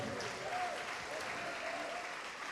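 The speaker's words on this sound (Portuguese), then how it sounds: "Vamos aplaudir ao nosso Senhor." A church congregation claps together in steady, continuous applause that holds at an even level throughout, with a faint voice rising briefly over the clapping.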